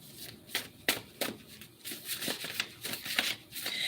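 Tarot cards being shuffled by hand close up, a series of quick riffling and sliding bursts at an uneven rhythm, soft to moderate in level, with no talking.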